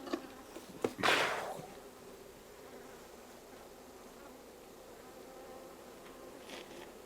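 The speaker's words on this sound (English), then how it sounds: "Ooh, there is a lot of bees in there" Honey bees buzz around an open hive during an early-season inspection, a faint continuous hum with a louder close pass and brief handling noise near the start.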